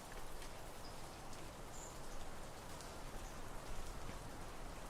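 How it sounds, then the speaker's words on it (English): Steady rain falls in the cozy farming game Loftia, a soft continuous patter of drops with faint scattered higher ticks, quiet and even throughout. "They're already getting watered because it's raining."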